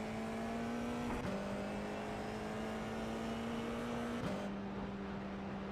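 A race car engine in the iRacing sim holds a steady, buzzing drone at constant revs, briefly dipping at two gear shifts, loud and continuous with no talk.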